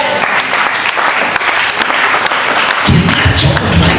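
A church congregation bursts into applause during a Sunday sermon, dense clapping filling the space, swelling louder and heavier toward the end.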